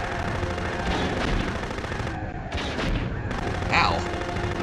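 Gunfire in the video game Future Cop: L.A.P.D. during a water-level stage, dense loud rapid shots and booms filling the whole clip with a brief dip midway, and no speech.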